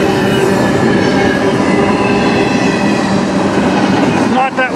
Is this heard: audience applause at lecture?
no